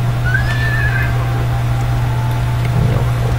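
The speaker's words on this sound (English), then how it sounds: "Horse keeps on running away." A horse in a wild west sheriff and bounty hunter game gives a brief high whinny early on, heard over a steady loud drone with faint hoof-like clatter near the end.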